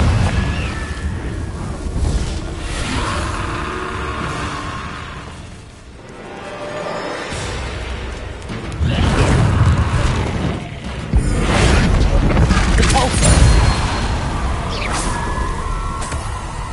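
A Confringo fire spell in Hogwarts Legacy produces loud, rushing blasts and roaring bursts that swell, dip briefly midway, then surge again in heavier explosive waves.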